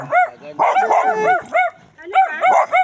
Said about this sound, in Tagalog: Bakit ang aso dito?